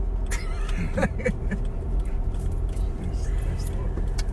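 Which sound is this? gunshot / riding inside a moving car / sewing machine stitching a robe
riding inside a moving car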